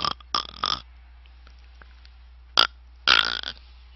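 A voice imitates the snoring of a person with sleep apnea: a few short, rough snorts, then a pause, then a longer, strained, closed-off snore near the end.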